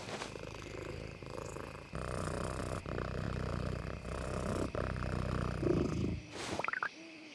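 A giant cat creature purrs in the survival video game Once Human, a steady, rumbling, close-up purr that runs continuously for several seconds, ending in a few softer, higher sounds.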